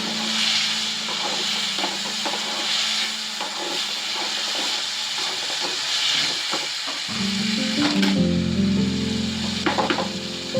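Garlic and spice masala sautéing in a pan for a kanthari chilli pickle, a constant loud sizzle and hiss with occasional stirring scrapes, joined late by a lower humming tone.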